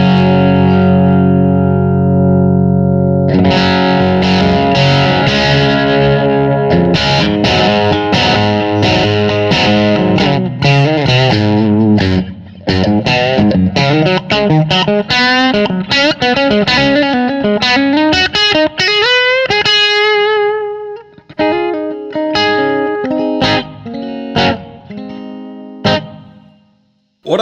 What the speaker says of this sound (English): Then we have crunch.